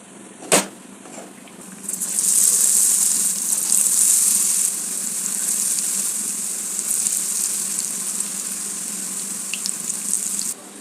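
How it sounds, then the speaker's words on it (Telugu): Raw banana bajji in gram flour batter frying in hot oil, a loud steady bright sizzle that swells in after a brief clink and keeps hissing close and continuous throughout. "ఇప్పుడు అరటికాయ బజ్జీ వేస్తున్నానండి"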